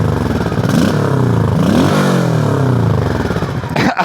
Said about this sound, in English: Couple final victory revs here.